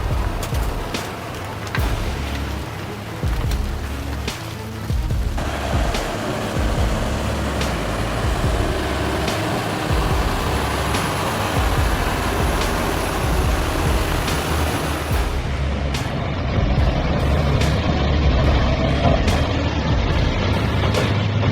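A tractor straining at full horsepower to haul sugar beets out of deep mud, its heavy engine roaring loud and continuous, with the tone shifting partway through and a harsh rise near the end.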